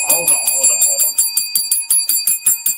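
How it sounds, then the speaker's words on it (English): A 'Lambo bell' sound effect rings in a rapid, even series of bright metallic dings, loud and close, with a voice briefly heard at the start. "You get that Lambo bell"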